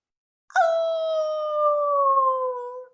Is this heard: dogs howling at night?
yes